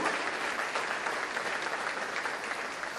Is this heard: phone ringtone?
no